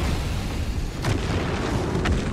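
Cannon fire in Baldur's Gate 3 battle, a dense rumbling wash of booms with a couple of sharper blasts cutting through, loud and continuous without talk.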